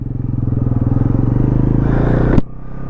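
A Bajaj NS400z motorcycle with a 400cc engine revs up close and loud, a steady pulsing rise in pitch that cuts off abruptly near the end with a sharp click, then settles back to idle.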